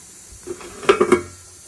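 A metal lid set down on a pot of cooking cabbage: a few quick clattering knocks close by, over a low kitchen hiss, with no talking.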